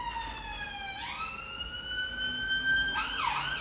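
An ambulance siren passes on an East London street, its wailing tone sweeping up and down at moderate distance over faint road noise. No one speaks.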